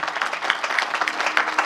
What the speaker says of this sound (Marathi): एकदा मनातून टाळी वाजवा वागायसाठी